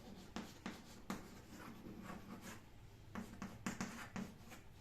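Marker writing on a board during a lesson, soft scratchy strokes in short bursts with brief pauses, faint and close over a low room hum.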